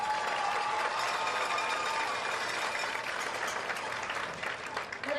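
A crowd in the stands applauding the homecoming court at a Texas high school football game, a broad sustained wash of clapping and cheering that holds steady, then thins a little near the end.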